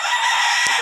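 A rooster crows among chickens on a hillside farm, a single loud, near, bright call heard alone.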